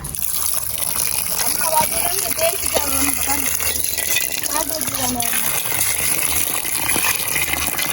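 Water pours and gushes steadily over freshly harvested produce from a home garden in Jaffna while it is being washed, with people talking throughout.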